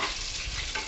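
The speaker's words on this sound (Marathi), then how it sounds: "आता आपण बाकीचे हे सगळे लॉलीपॉप तळून घेऊयात" Chicken lollipops frying in oil over a medium flame, a steady dense sizzle with faint stirring or shifting noises, close and continuous without any talk.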